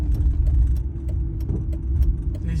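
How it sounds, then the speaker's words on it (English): Vehicles and engines idling at a Shell truck stop, a steady low rumble with a constant hum and scattered clicks and knocks, fairly loud and without talk. "This is a Shell truck stop."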